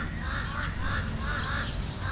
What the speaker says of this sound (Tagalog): ang dami nilang alagang uwak